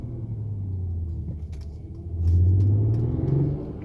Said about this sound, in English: It actually sounds more like a V8 than it does an inline 6.